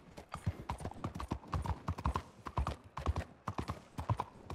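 Horse hooves clip-clop steadily in a Western-themed video game, a close, busy rhythm of hoofbeats continuing throughout with no talk over it.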